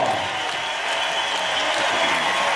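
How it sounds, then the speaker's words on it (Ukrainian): A concert-hall audience at a national performing-arts competition applauds steadily and loudly, a thick wash of many hands clapping throughout. "Мы аплодисменты и поклон в адрес зрительного зала."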